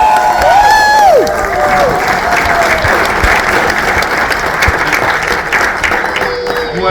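Audience applause at a fan gathering, a dense sustained wash of clapping from a sizeable crowd with scattered cheers and whistles rising above it, loud and continuous throughout.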